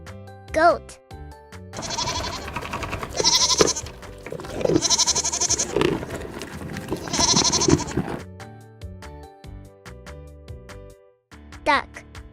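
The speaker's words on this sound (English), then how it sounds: "goat." Repeated goat bleats come in three bursts, nasal and quavering, close and fairly loud, with short voiced sounds at the start and end and light background music.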